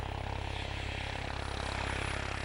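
A modern combat helicopter in flight gives a loud, steady rotor thrum with fast rhythmic beating layered over broad engine roar, continuous throughout.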